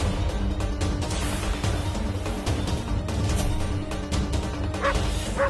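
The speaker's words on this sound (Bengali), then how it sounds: "এই কুকুরটা তো পাগল মনে হচ্ছে, ও তপস্বীমাকে কামড়ে দেবে।" A frantic dog barks and yips loudly and repeatedly, its barks overlapping with crashing clatter in a dramatic television scene.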